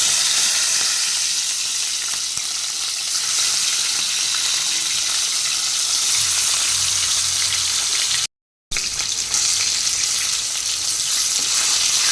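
Fish seasoned with salt and turmeric frying in hot oil in a wok, a steady loud crackling sizzle that runs throughout with a brief dropout near the end.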